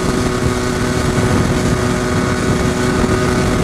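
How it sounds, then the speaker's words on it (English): A Lambretta scooter engine misfiring at the top end gives a loud, continuous buzzing drone with a rough edge, mixed with rushing wind noise and no voices. "Yeah, it's definitely misfiring at the top end."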